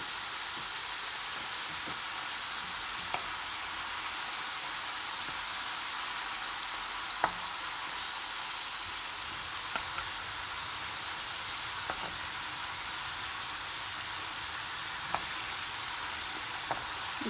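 Namak paray pastry strips frying in hot oil, a dense, even hiss of bubbling with occasional sharp pops, steady and close throughout with no talk.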